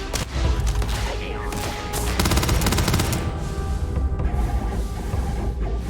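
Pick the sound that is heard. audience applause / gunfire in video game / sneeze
gunfire in video game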